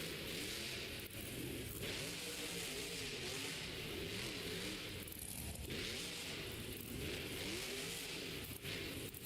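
A monster truck's engine roars at a stadium Monster Jam show in San Diego as it turns around, a loud dense continuous rumble with swelling revs and crowd noise blended in, heard from a distance.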